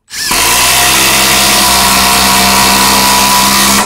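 A Makita power tool driven by an 8.0 battery starts abruptly and then runs with a loud, steady motor whine and hum, close up and alone.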